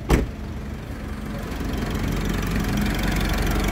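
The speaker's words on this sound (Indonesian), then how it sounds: "Oke, kita langsung cek suara mesinnya." Mitsubishi Triton single-cab 4x4 pickup engine idling after a brief sharp knock, holding a close, steady low rumble that stays smooth and even.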